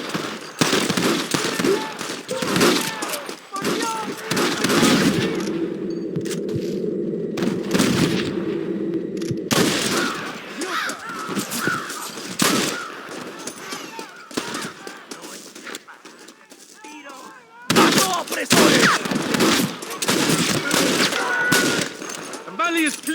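Gunfire in the Western video game Red Dead Redemption rattles in dense bursts and volleys, loud and near, with a stretch of sustained tonal sound midway and brief voices mixed into the shooting.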